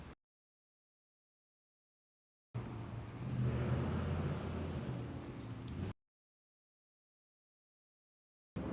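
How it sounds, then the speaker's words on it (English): Car traffic roars steadily near Prospect Park in New York City, a continuous road rumble lasting about three seconds between stretches of silence. "Hopefully we'll get away from the loud car noises"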